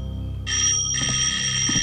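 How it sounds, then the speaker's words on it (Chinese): A telephone rings in a tense espionage drama scene. After a brief low hum, a loud, bright electronic ring starts and continues to the end. "黄一彪，你马上去接电话，不管谁打来的，只许说一个是字"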